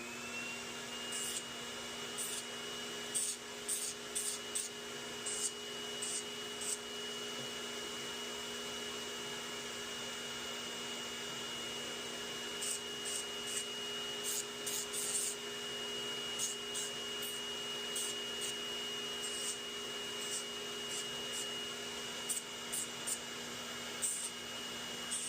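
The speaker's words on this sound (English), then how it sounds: "let's just sand some of this down" Rotary sanding tool on a diabetic foot wound gives a steady, faint high whine, with small scattered ticks and clicks as it works the skin.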